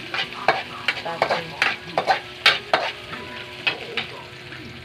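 Onions and garlic sautéing in a pan for lugaw toppings: a steady close sizzle broken by repeated scraping stirs of a spatula, roughly a dozen sharp strokes over a few seconds.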